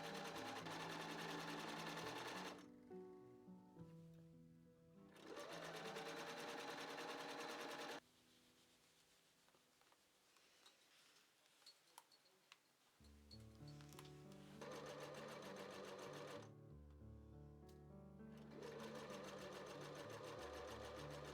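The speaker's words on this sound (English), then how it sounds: "I stitched the sides together and added the sleeves." A sewing machine stitching the sides of a shirt for a Victorian cycling outfit, running in loud, steady whirring bursts separated by quieter pauses of handling, close up with no talking.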